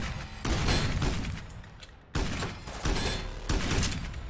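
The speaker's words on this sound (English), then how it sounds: "Heavy flat cannon certainly sounds good." Heavy flat cannon shots from the Synthetik: Legion Rising shooter ring out in several loud, punchy blasts spaced roughly a second apart, each with a sharp crack and a decaying rumble, close and without voices.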